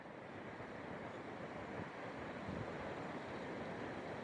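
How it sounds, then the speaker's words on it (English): Gusty wind roars steadily outdoors on a morning, a broad, loud rushing wash with slight surges, buffeting the microphone throughout, with no talk. "That wind's loud this morning. Very gusty."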